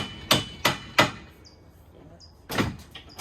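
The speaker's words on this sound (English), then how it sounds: "Just whack it with a soft mallet" A soft mallet strikes stuck cage bolts on a Jemco PZ6 cargo box during installation: three sharp, evenly spaced whacks close up, a short quiet gap with faint metallic clinks, then a longer burst of knocking.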